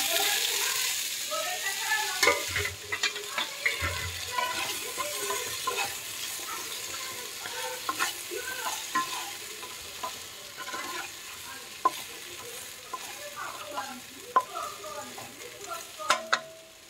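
Vegetables cooking in hot oil in a kadhai, a continuous low sizzle with frequent stirring scrapes and light metallic knocks throughout, close by, with no talk.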